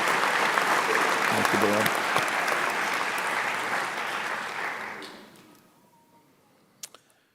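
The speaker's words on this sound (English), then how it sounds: "Please give Dale another round of applause for his speech and for his service." Audience applause at a graduation ceremony, a dense sustained clapping that fades out over several seconds, with a brief spoken thanks over it and a few small knocks at the end.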